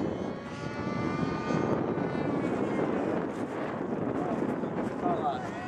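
A small airplane comes in slowly to land, its engine a steady, moderately distant drone with wind buffeting the microphone.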